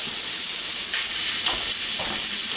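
Shrimp fry in a hot pan with a steady, loud sizzle and hiss and occasional faint stirring scrapes, close up and with no talking.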